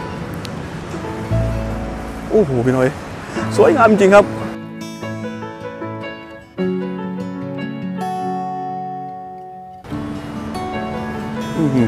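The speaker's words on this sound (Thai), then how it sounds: "น้ำเพิ่นก็ไหลลงพุ่นครับเพิ่นก็เอ็ดคล้าย น้ำตกเนาะ" Water pours down a waterfall-like feature at the One City Centre tower under construction in Thailand, a steady rushing wash heard close while someone talks excitedly over it and tonal notes ring in partway through.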